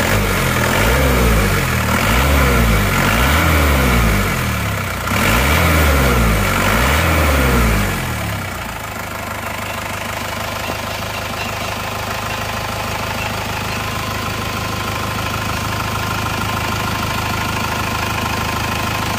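An overhauled Isuzu Panther diesel engine, still sounding rough, is revved in several loud rising and falling surges for about eight seconds. It then settles into a steady, close idle with a knocking undertone.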